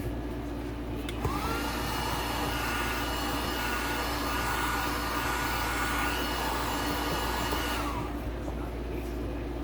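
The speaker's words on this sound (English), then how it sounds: "break out the heat gun" A heat gun blows steadily while motorcycle graphics are set onto a Yamaha YZ125, a close, even whooshing hum that switches on after a moment and cuts off near the end.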